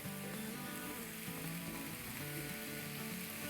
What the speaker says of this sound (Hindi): चलिए मिक्स कर लेते हैं। 2 मिनट तक अच्छे से भून लेंगे।